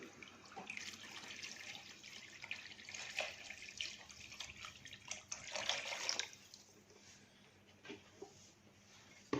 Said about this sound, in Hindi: पानी तकरीबन हम इसके अंदर 2 लीटर ऐड करेंगे